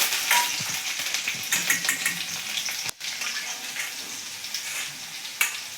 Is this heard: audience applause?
no